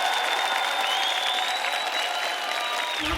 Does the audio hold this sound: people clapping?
yes